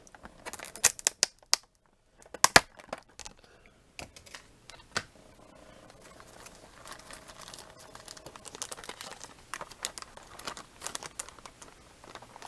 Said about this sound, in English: it's wrapped in that thin plastic sheet to keep the paint from getting scratched